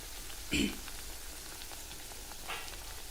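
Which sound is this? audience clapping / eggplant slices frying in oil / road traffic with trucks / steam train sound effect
eggplant slices frying in oil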